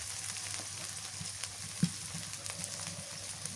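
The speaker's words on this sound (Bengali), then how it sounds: "পেঁয়াজ মরিচ ভাজা হয়েছে একটু জিরা বাটা আর পেঁয়াজ বাটা দিই" Onion and chilli frying in a pan with cumin and onion pastes added, a steady close sizzle with small crackles and one brief louder knock.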